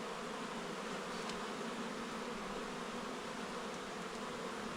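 Honeybees buzz in a soft, steady hum that fills the space around an open hive as a beekeeper works the frames.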